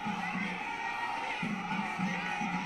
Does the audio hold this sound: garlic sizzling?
no